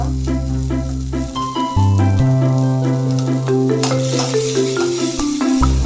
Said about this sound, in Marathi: हा पावटा भाजून घेऊया छान आपण आणि एका प्लेटमध्ये काढून घ्यायचा।